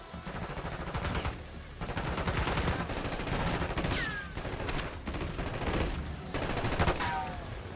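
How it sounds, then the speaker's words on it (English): Video game gunfire erupts in bursts, with rapid fusillades and machine-gun rattle separated by short pauses, loud and close throughout. "That's a gun."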